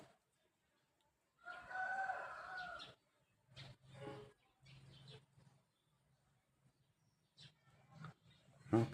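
A rooster crows one long, loud call, followed by shorter clucking fowl sounds and a few brief bursts against a quiet rural background.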